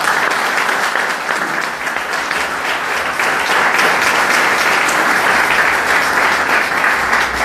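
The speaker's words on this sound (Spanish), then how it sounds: "Y yo de usted le regalaría el mejor aplauso al Señor" A church congregation gives loud, sustained applause during a sermon. Dense clapping from many people fills the room at an even level throughout, with no speech over it.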